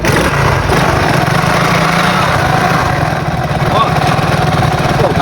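A 50cc motorcycle engine with a loud abnormal internal noise runs close by, a steady rough rattling chug throughout, with someone talking over it.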